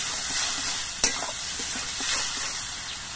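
A spice mixture with yogurt sautés in a pan for a pumpkin and chana dal curry, giving a close, steady sizzle broken by a sharp clink and soft scraping stirs.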